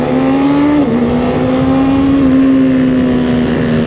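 Kawasaki ZX6R 40th Anniversary Limited Edition motorcycle engine droning at a steady high pitch, with a brief dip in revs before settling, loud and continuous against wind rush during a ride.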